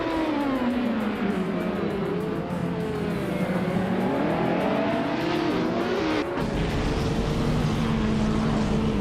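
Race cars roar off the start at the Gold Coast track in a racing video game, including a 2011 Orica 03R in the LMP2 class, with loud, continuous engines rising and shifting in pitch throughout.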